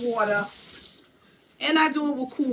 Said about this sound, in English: I like to rinse my leaves off when I'm first getting it.